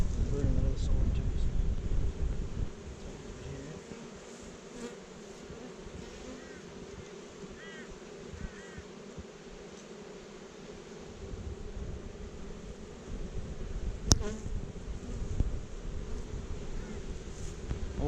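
Honey bees buzz steadily around a hive being cut out of a log, a soft continuous drone mixed with wind-like outdoor noise, moderately close and fairly quiet throughout.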